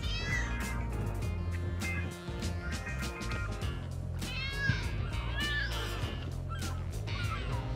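A cartoonish cat meows repeatedly in the LEGO City Undercover video game, several rising cries over steady game music and effects.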